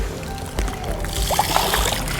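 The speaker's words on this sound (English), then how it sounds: "all I'm doing is taking dry sand and adding it to the water to make wet sand" Handfuls of dry sand dropped into a bucket of water to make wet sand, giving soft close sloshing and gurgling splashes, a few brief bursts over a low background.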